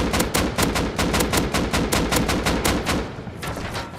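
AK rifle firing in the survival game Rust: rapid automatic fire in a steady, evenly spaced stream of loud sharp shots lasting about three seconds, then a brief trailing burst, with no talking.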